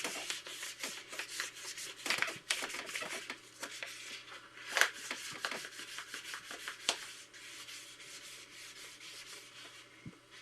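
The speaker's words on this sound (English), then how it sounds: "just take sandpaper and run it down the side" Sandpaper is palmed by hand along the side of a Kramer 5150 replica guitar body during wet sanding. Soft, irregular rubbing strokes sound close and fairly quiet, with no talk.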